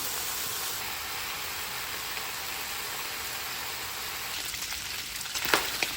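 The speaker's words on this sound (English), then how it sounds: "And in goes the bacon." A full pound of bacon sizzles in a hot pan under a splatter guard, a steady hissing crackle throughout with a few sharper pops near the end.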